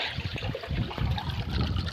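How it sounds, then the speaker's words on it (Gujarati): Water trickles and splashes inside an eight-foot-deep farm water tank, a close, uneven dribbling with soft gurgles and no talking. "આ કુંડી તમે જોઈ શકો છો અંદર પાણી નીકળે છે"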